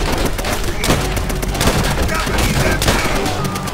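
Dense machine gun fire rattles nonstop in Call of Duty: World at War, loud overlapping bursts and booms filling the battlefield, with shouting voices mixed in.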